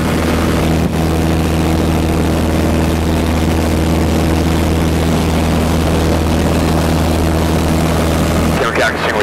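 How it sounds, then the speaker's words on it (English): A yellow biplane's propeller engine drones loud and steady during a climb, a constant close-up throbbing hum heard from inside the aircraft, with a brief rustle near the end. "Well, with this climbing, this plane climbs out."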